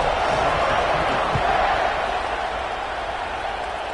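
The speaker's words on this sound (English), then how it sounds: "this crowd is buzzing after that last score" A crowd at an American football stadium keeps up a broad, sustained roar after a score. The noise is distant and steady, with a commentator talking over it.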